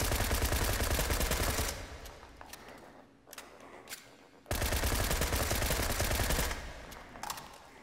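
Fast, continuous bursts of SCAR rifle fire in a VR shooting game, loud and dense with short gaps between strings of shots, no talking.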